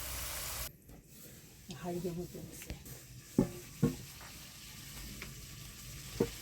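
Spice paste (masala) sizzles and fries in a pan for an Indian vegetarian potato, pointed gourd and paneer curry, with a few sharp scraping clinks from stirring over a steady low sizzle.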